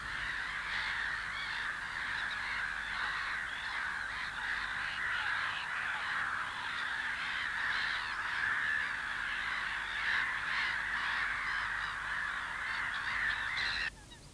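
A large breeding colony of black-headed gulls calls continuously in a wetland peat area, a dense, steady chorus of harsh overlapping cries heard at moderate distance without pause.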